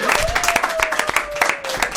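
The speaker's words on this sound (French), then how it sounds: "Applaudissez très fort" Studio audience applause on a French-language TV magazine show, a lively burst of clapping with a presenter's voice and a sustained tone running over it.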